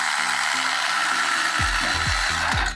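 Bolts being broken loose with a ratchet on a Honda S2000 engine: a loud, continuous tool whir with rapid repeated clicking and several low knocks near the end, close and without talk.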